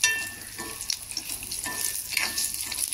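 Chillies fry in just a little oil in a pan, producing a soft, steady sizzle with occasional light stirring scrapes close by.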